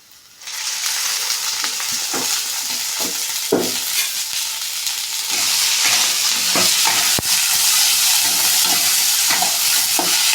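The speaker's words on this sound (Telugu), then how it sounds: "ఇప్పుడు దీంట్లోకి వేసుకున్నాము పెనంలోకి వేయించుకోవాలి ఆయిల్ వేసుకొని" Chopped okra frying in oil in a pan gives a loud, steady sizzle with scattered scraping stirs, running continuously throughout with no talking.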